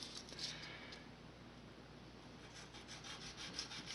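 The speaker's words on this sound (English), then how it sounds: "very gently sandpaper the..." Gentle, steady rubbing of sandpaper on a small part from a Magnavox PF6720 console, a soft continuous scratchy hiss heard close up with no talking.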